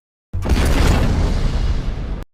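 A tank cannon fires at German soldiers in a wartime setting, a sudden loud boom that rolls into a dense, roaring blast lasting about two seconds before cutting off abruptly.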